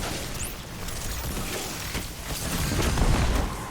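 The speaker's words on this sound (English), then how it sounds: "Gotta love chain explosions." Chain explosions rumble and burst in the Destiny 2 video game, with dense, noisy blasts rolling together over a few seconds.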